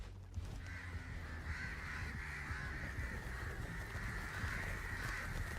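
A large flock of crows cawing continuously, many overlapping calls forming a dense, steady chorus at moderate distance with no talking over it.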